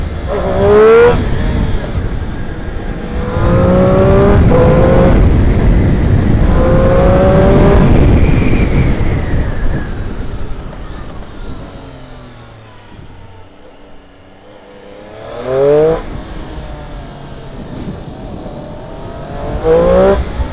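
A 2017 Triumph Street Triple R 765 motorcycle revs hard while riding, its engine note climbing through several gear pulls, dropping to a low idle-like lull, then surging again with wind noise throughout.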